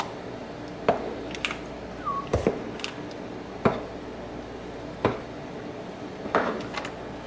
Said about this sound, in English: Just a big old spoon plop.